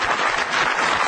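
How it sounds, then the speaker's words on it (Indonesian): Studio audience at a stand-up comedy show for a TV channel's anniversary applauds three comedians, a brief, loud burst of many hands clapping together. "Oke, sekali lagi tepuk tangan buat 3 komik yang sudah tampil."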